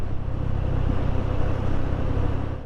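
Road traffic, mostly motorbikes, rolls past near a roadside cafe and mosque on a provincial road near Jasinga, Bogor, a continuous loud rumble and whoosh of engines without talk.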